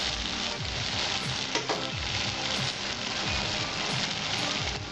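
Spices sautéing in a pan for Bengali potol alur kalia with potatoes and pointed gourd, a dense, close crackling sizzle with stirring scrapes and occasional pops, no talk.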